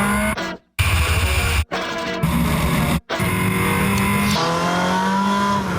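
Ferrari 360 Spider engine revs hard through several loud, close bursts with sharp cut-offs between gear changes, then settles into a sustained high-pitched whine.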